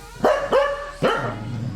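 A pet dog barks three times in quick succession, loud and close, with a short gap before the third bark and quiet room noise between.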